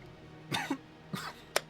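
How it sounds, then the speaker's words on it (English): Three short coughs, close to the microphone, spaced out over a couple of seconds against a quiet background hum. "Anytime I cough, that's totally me"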